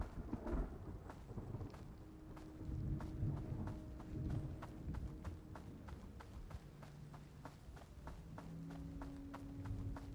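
Steady rain hiss with low rolling thunder fills a stormy outdoor ambience in the survival game Road to Vostok, punctuated by a regular series of sharp taps or footsteps.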